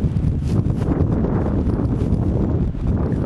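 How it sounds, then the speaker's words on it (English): A big gust of wind roars past outdoors in northern Delaware on a windy February day in 2012, near a highway. It makes a loud, continuous rumbling buffet with no pause for over three seconds. "that's a big gust of wind that's about to come through"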